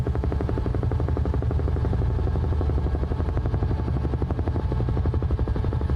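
A Huey helicopter flying over Ireland in Microsoft Flight Simulator 2020 gives a steady, loud rotor thump with a continuous droning engine roar, an even rhythmic chop throughout.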